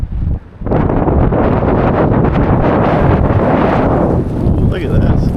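Strong mountain wind roars and buffets the microphone almost continuously, loud and close, with a brief lull near the start and faint sliding rock and gusty rustle beneath.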